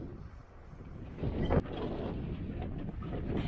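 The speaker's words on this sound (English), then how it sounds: "Windy afternoon." Strong wind buffets and roars against the microphone, with a sharp gust partway through and a continuous rumbling blow afterward.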